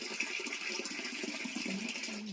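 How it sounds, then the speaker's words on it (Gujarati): Water runs into a clay pot to fill it for birds, a steady, gushing trickle whose pitch rises as the pot fills, heard close with no voices. "આ એક કુંડું ભરાઈ ગયું."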